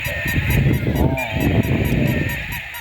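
Loud, close honking calls from a duck come in a rapid rhythmic series over a few seconds, with a steady background hum underneath.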